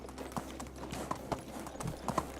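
In the video game Medieval Dynasty, a ridden horse's hooves beat out a steady clip-clop, crisp regular strikes up close against a low background hum, no talking.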